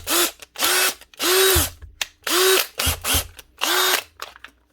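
A Makita power drill, just repaired, runs in loud whirring bursts: about six starts and stops of varying length, each spinning up and winding down, close and alone with no talk.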